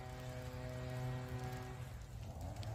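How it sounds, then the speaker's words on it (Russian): Steady rain falls outdoors on a September morning, a continuous soft hiss of drops with a faint tonal hum fading out partway through. "а то дождь идет. Я уже промок."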